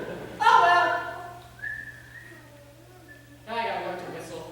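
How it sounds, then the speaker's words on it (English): A person whistles a few short tuneful phrases, loud and close, in bursts separated by pauses, over a low steady hum. "Now I gotta learn to whistle."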